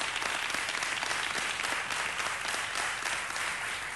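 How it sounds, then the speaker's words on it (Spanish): An audience at a live Spanish talk show recording applauds loudly and steadily, a dense wash of clapping that fills the whole stretch without pause. "Un fuerte aplauso para ellos."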